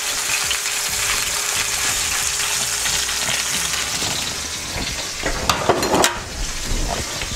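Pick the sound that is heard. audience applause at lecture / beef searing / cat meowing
beef searing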